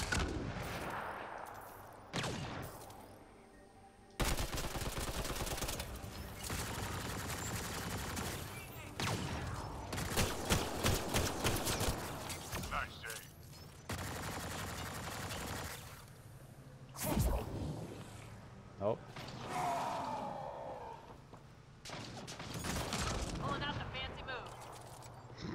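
Gunfire in the video game Mass Effect Andromeda, with bursts of rapid automatic shots separated by pauses, fairly loud and sharp, and a voice speaking between the volleys.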